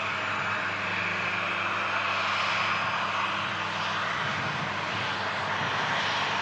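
A VistaJet business jet lines up for departure, its engines giving a steady, loud broadband roar that holds evenly throughout with no voices.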